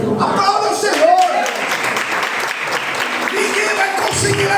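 Church congregation applauding loudly and continuously, dense clapping filling the space with voices and music-like tones mixed in.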